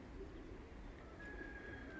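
Racing pigeons at a loft coo softly in a low, murmuring burble, faint and continuous, with a thin tonal whine running in the background and no speech.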